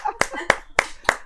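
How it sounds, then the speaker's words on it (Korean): Four sharp, evenly spaced hand claps ring out close and clear during a Zoom church Bible study, with faint voice sounds between them. "박수."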